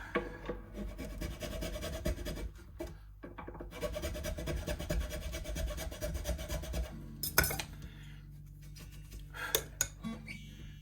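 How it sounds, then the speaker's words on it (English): Steady abrasive rubbing of sandpaper on an acoustic guitar part, continuous and close, with a couple of sharper scrapes near the end. "a little bit of sanding back afterwards as well, just to smooth it off"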